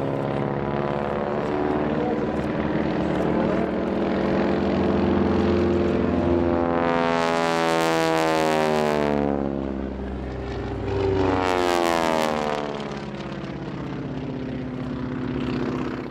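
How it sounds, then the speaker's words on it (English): Aerobatic propeller aircraft flying opposing loops at the EAA AirVenture Oshkosh 2019 airshow: a loud, continuous engine drone that rises and falls in pitch as two planes pass overhead in turn, with no talking. "The aircraft fly those opposing loops, then twist through 90 degrees on the down line and rejoin pretty swiftly back in formation."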